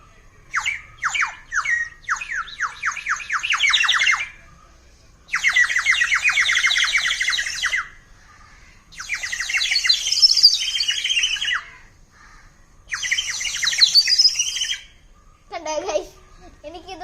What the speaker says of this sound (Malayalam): ഉള്ളിൽ വെള്ളം നിറച്ച കിളിയുടെ സൗണ്ട് അല്ലെങ്കിൽ ഞാൻ കാണിച്ചതില്ല ഒരു പീപ്പിയുടെ സൗണ്ട്